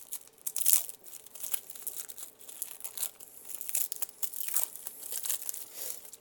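A cellophane bag wrapped around an airsoft outer barrel crinkles and crackles as it is handled up close, in irregular bursts of crisp rustling at a soft level.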